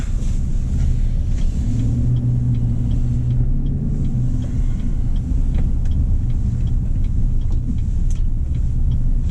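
A 2019 Chevy Silverado RST pickup with the 5.3-liter engine rumbles steadily while driving, a loud low engine and road drone heard from inside the cab with small ticks on top.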